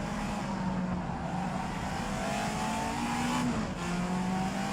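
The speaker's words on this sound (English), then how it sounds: "I just got a hint of your engine in the distance then" A race car engine from the rFactor racing game drones steadily throughout, its pitch rising and shifting with gear changes, heard as continuous, moderately loud engine and road noise without talk.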